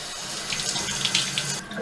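Water runs steadily from a tap into a sink while a synthetic cosplay wig is rinsed, a soft continuous splashing with brief brighter gurgles and sloshes, close and fairly quiet, with no voices.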